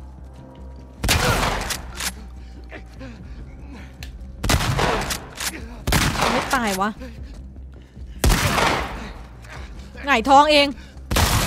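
Gunfire in The Last of Us Part II, with several loud bursts of shots spread through the scene, mixed with speech and excited voices between the volleys.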